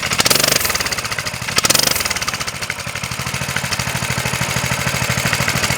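A Coleman CT200U mini bike's small single-cylinder engine with a centrifugal clutch idles steadily nearby, a loud, even putter with a couple of brief revs near the start.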